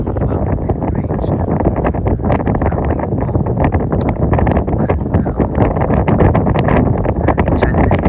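Strong wind buffeting the microphone near a mountain range in Korea, a loud rumbling roar with gusty fluctuations throughout, no clear talk.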